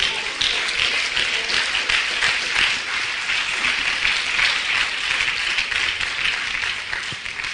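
A church congregation applauds during a sermon, producing sustained, dense clapping that holds at an even, fairly loud level for over seven seconds.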